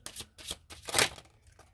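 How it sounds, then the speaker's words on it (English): Tarot cards shuffled by hand, a burst of quick papery riffles and flicks with short pauses between, close and fairly quiet, no talking. "Let me just shuffle them real good"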